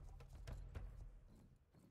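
Six horses gallop past in the online video game Star Stable Online, a brief, faint burst of hoof clip-clop.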